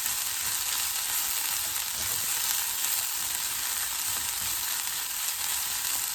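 Diced spinach and turkey bacon sizzle in a pan as they're stirred around with the heat switched off, a steady bright crackle with soft scraping underneath and no voices.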